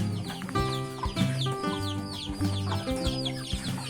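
A small flock of village backyard chickens clucks steadily nearby while being fed, with overlapping calls and higher squawks forming a continuous busy chatter.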